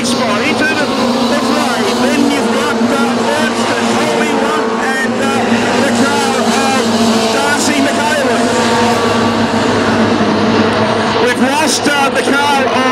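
Junior A Sedans race in the final at Redline Raceway, a continuous loud roar of several engines revving and passing, with a commentator talking over the noise throughout.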